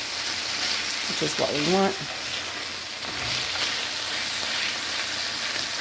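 Chicken pieces for black pepper chicken frying in a pan with a steady broadband sizzle, with occasional stirring scrapes. A person speaks briefly partway through.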